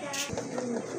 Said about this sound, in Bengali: খুবই চমৎকার এক জোড়া ড্যানিশ কবুতর, হোয়াইট ড্যানিশ কবুতর